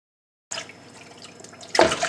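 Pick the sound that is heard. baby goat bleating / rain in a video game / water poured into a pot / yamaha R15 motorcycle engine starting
water poured into a pot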